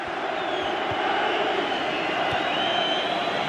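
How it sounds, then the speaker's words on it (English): A stadium crowd in a FIFA 15 career-mode match roars loudly and continuously, a broad, sustained wall of cheering with no break. "the crowd has gone mad here because they know, I think we all know, that's probably the winner"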